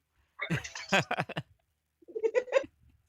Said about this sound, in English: this cat that has a really weird but funny meow